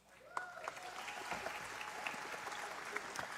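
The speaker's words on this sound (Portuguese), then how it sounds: "Isso, pode aplaudir." Church congregation applauding as youth ministry leaders are named, a moderately faint, steady wash of clapping with scattered sharper claps and a faint tone running beneath.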